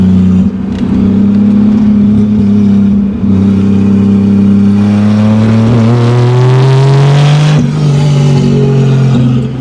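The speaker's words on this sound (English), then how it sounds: "This thing is really loud" A 1987 Toyota Supra with a swapped 2JZ-GE engine turbocharged from naturally aspirated, in loud, close engine noise that holds steady and then climbs in pitch as it revs and accelerates, with no talk over it.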